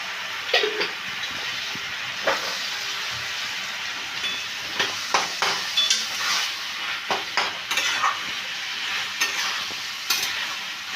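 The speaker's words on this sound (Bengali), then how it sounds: "এটাকে আমি ভালো করে কষিয়ে নিচ্ছি" Banana flower and shrimp stir-frying with garam masala in a drying pan, a continuous loud sizzle broken by repeated spatula scrapes and knocks against the pan at an irregular pace, with no talking.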